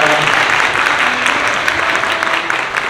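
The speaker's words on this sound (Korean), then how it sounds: "신랑, 신부, 인사. 뜨거운 박수 부탁드리겠습니다." A wedding audience claps warmly for the bride and groom as they bow to their parents: dense, steady applause filling the hall at close range, continuous for the whole stretch with no talking over it.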